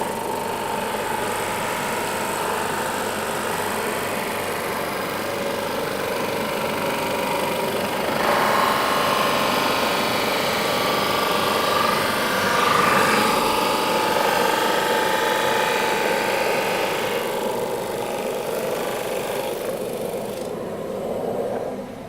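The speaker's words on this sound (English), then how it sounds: "Remember, it is a sanding machine." A drum sander drones steadily at close range with a constant motor hum and grinding buzz, swelling slightly midway and easing off near the end.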